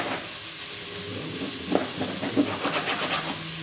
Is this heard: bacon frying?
yes